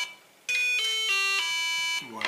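Homemade Arduino Nano wire-loop game plays its series of electronic tones, a sequence of stepped beeping notes lasting about a second and a half, then a brief voice at the end.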